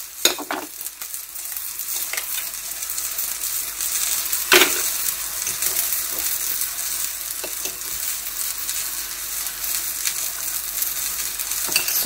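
Steady sizzling of eggplant frying in a hot pan, with occasional soft scrapes and taps of a utensil against the pan.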